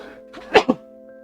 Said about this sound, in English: That was a loud sneeze.